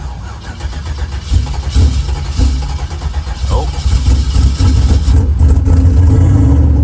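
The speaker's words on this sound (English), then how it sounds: "Nice little cold start." A race car engine with an aggressive cam cranks and fires up on a cold start, then settles into a loud, lumpy idle with a choppy, uneven rhythm, close by, with a brief exclamation from a voice.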